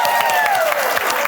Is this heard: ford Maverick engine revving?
no